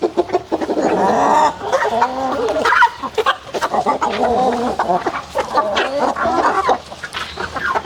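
Chickens cluck and murmur continuously at close range, several birds overlapping in a busy, uneven stream of short calls.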